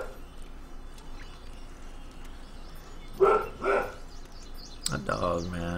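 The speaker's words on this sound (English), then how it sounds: "A dog, man." A dog barks a few times in the Stronghold Crusader 2 video game, with short clustered yelps over a steady game ambience and a louder burst near the end.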